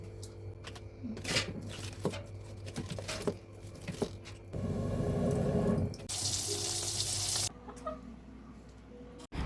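Red rice is washed under running water at a sink, with patches of splashing and rushing tap flow broken by short handling sounds and quieter gaps.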